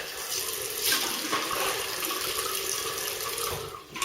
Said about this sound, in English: I'm just going to wet my face again.